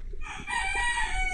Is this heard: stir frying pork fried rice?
no